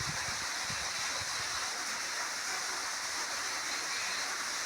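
Steady, loud rush of water flowing from a one-inch pipe, pouring continuously, a bright hissing splash that stays constant from start to finish.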